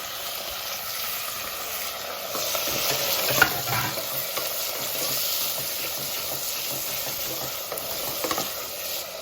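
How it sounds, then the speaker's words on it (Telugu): Onions, potato, carrot and tomato fry in a pan for mint pulao, a continuous hissing sizzle up close with a brief scrape of stirring partway through. "కొంచెం వేగేంత వరకు ఫ్రై. ఇది ఫ్రై చేసాక ఇది వేగినాక మళ్ళీ చూపెట్టు. Potato, carrot, tomato."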